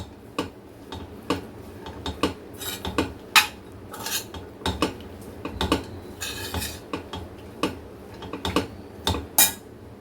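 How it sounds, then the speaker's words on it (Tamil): A spoon clatters and scrapes repeatedly against a bowl in quick, uneven strokes as thick cassava adai batter is mixed, loud and close with no talking. "இதையும் நல்லா கிளறி விட்டுருங்க"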